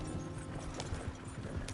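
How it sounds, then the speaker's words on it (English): Horse hooves clip-clop in a quick muffled rhythm at low level in Red Dead Redemption 2, brief and steady with no clear neigh and no talking. "coitado do cavalo."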